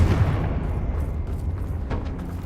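A Confringo spell explosion in Hogwarts Legacy, a heavy booming blast that opens loud and leaves a low rumbling tail.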